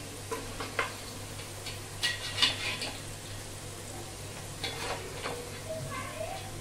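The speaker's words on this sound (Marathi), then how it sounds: "बटाटा पण मस्त तळला गेलेला आहे" Potatoes frying in oil in a pan give a faint, steady sizzle, with occasional light taps and stirring clicks from a utensil, quiet and close.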